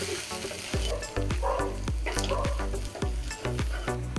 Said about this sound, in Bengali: আদা রসুন বাটাটাকে দিয়ে ভালো করে আমরা পেঁয়াজের সঙ্গে মিশিয়ে দিই।